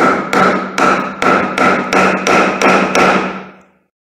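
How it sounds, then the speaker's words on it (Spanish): Loud, close hammer taps strike a burnt electric motor's coil wires to cut them, about nine evenly spaced metallic blows with short ringing decay, alone without talk. "Y le voy a dar unos golpecitos con nuestro martillo."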